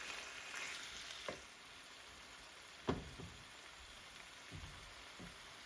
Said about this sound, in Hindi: ऑयल अच्छा सा गर्म हो चुका है, इसमें कलेजी डालेंगे। इसको फ्राई कर लेंगे।